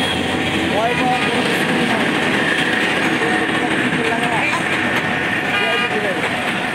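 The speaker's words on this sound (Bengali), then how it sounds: "কত সুন্দর রেলগাড়ি যাচ্ছে কমলাপুর রেল স্টেশন থেকে" A train runs past in Dhaka near Kamalapur railway station, a continuous loud rumble of rolling wagons with horn toots, mixed with street traffic and people talking.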